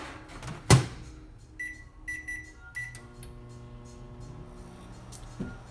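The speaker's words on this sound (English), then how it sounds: "This broccoli is gonna go in the microwave for 5 minutes" A microwave oven heating broccoli: a door clunk, then keypad beeps a few times before the oven starts with a steady low hum and whir running in the background.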